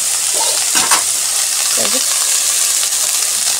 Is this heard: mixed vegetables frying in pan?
yes